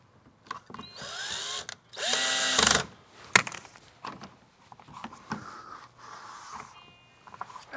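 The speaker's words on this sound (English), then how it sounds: "And then screwing that in" A power drill drives screws into a car's front lip trim in short bursts of high whirring, separated by quiet gaps and small clicks and handling noises.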